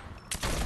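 Gunfire from a weapon in the video game Fortnite, a short loud burst that starts abruptly partway through and continues as dense, sustained shooting to the end.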